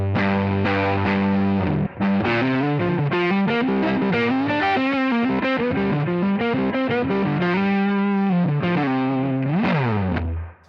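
A blues rock solo on an overdriven electric guitar played through the neck pickup, with a thick distorted tone; sustained bent notes and quick runs ring out loud and up close, alone with no talking, for about ten seconds.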